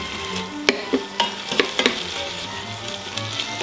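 Beef and vegetables for japchae stir-frying in a pan, a steady close sizzle broken by sharp scraping and clanking stirs, with no one talking.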